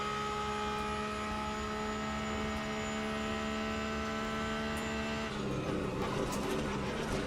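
A Porsche GT3 race car engine in the Le Mans Ultimate racing sim holds a loud, steady high-revving drone, then shifts to a rougher, changed engine note near the end, with no voices.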